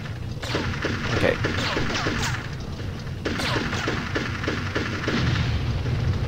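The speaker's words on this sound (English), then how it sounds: "now the tank is shooting at me" Repeated booming shots and crashing impacts from a tank firing at the player in the video game Army Men: Sarge's Heroes, a dense rhythmic barrage over a constant noisy game background.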